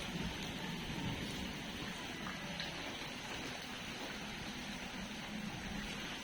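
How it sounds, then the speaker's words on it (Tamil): Steady rain hisses evenly throughout, a soft continuous wash with no voices and no breaks. "இன்னும் மழை நிற்கல"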